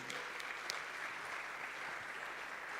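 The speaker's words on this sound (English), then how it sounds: "Round of applause for these guys." A workshop audience gives a short burst of applause, an even wash of many hands clapping, fairly faint and distant, lasting just under three seconds.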